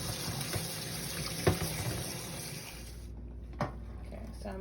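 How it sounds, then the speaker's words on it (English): Cold tap water runs over freshly strained pasta in a kitchen sink, giving a steady mid-level rush with faint splashes, then the flow fades out near the end. "I'm going to run cold water on it so it's not extremely hot"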